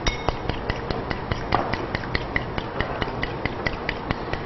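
Eggs whisked in a bowl for Thai krob khem (salty crispy snack) dough: a steady run of quick, sharp clicking taps about five per second, close and fairly loud, with no talking.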